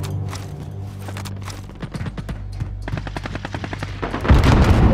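Video game gunfire in repeated sharp bursts and single shots, growing denser toward the end and closing with a heavy boom over a low engine-like drone.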